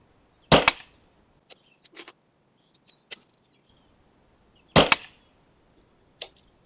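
A Daystate Redwolf GP air rifle fires two crisp, sharp shots about four seconds apart, each a loud close crack with a brief tail, separated by faint small clicks and near silence.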